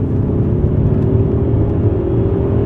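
A 1939 Alfa Romeo with a 2-liter engine holds a loud, steady, throaty hum at low revs, close by and continuous without voices.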